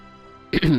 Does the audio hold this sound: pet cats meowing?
no